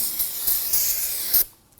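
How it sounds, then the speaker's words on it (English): Spray solvent hissing from an aerosol can onto an oil-coated rear brake rotor of a 2003-2014 Volvo XC90, several close bursts of loud spray that stop abruptly near the end. "Take some spray solvent, spray it down"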